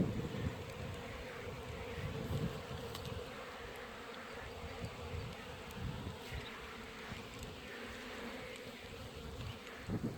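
Honey bees buzz around hives in a Canadian apiary, a continuous soft drone of many insects with individual bees passing close, plus light wind.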